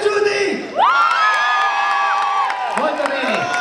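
A live crowd at a youth band contest shouts, whoops and cheers for a band in bursts, with high-pitched screaming voices, some clapping and a voice calling out over them.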